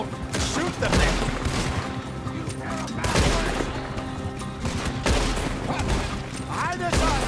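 Gunfire in the video game Red Dead Redemption 2, rapid overlapping shots in a sustained firefight, loud and close, with sharp bursts recurring over a dense background of echoes and game noise.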